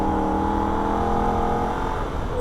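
Holden VF Ute racing flat out around the Nürburgring, its engine a loud, steady, close drone with strong harmonics, holding near-constant pitch through a corner section with only a slight dip at the end.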